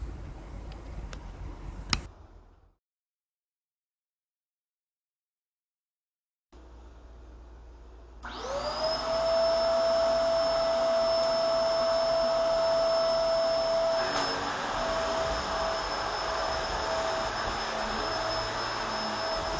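A BISSELL 2998 Pet Eraser vacuum cleaner starts up after a short silence and runs steadily, a loud sustained whine with a strong motor drone that holds to the end.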